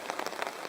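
Heavy rain pours down at a wilderness camp in spring, a dense, steady patter of drops close by with no voices.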